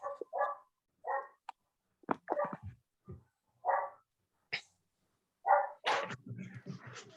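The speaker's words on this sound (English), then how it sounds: "I hear a puppy dog." A puppy barks in short, separate yaps and yips with quiet gaps between them, heard at moderate distance in an otherwise quiet indoor space.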